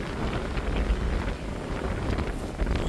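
Strong cold-weather wind blowing at a solo truck campsite, a steady rumbling roar with buffeting gusts against the microphone, loud and continuous.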